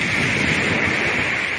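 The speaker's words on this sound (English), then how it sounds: "The waves are too heavy" Heavy ocean surf rolls onto Pirates Beach in Mombasa County, Kenya, as a steady, loud, unbroken roar with no voices.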